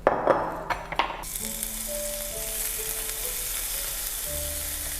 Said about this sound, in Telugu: నేను ఈ రెసిపీలో పన్నీర్ కూడా వాడుతున్నాను అనమాట ప్రోటీన్ సో ప్రోటీన్ కొంచెం ఫ్రై చేసుకుందాం